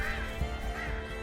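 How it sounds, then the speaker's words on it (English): Crows in the Unravel video game being scared away: harsh, nasal honking bird calls repeat in a loose rhythm over a steady, droning musical background, fairly close and with no talk. "scare the crows away"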